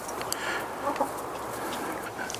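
Several chickens cluck softly and continuously nearby, with scattered short calls over a steady background hum.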